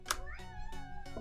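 A cat meows several times up close in a quiet room, drawn-out rising calls at an irregular pace, moderately soft with no talking.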